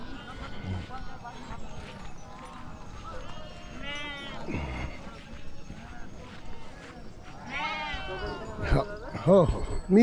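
Sheep in a herd bleat several times close by with wavering cries, alongside clip-clopping hooves and people talking nearby at a morning pilgrimage stop for a palanquin procession.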